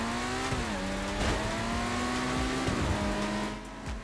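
Benefactor Krieger supercar in GTA 5 sliding sideways with a sustained tire squeal over its steady engine drone, loud and continuous for about four seconds with no one talking.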